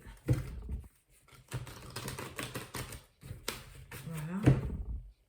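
A deck of tarot cards is handled and cut close up, giving a run of papery shuffling taps and flicks, with quiet speech in between.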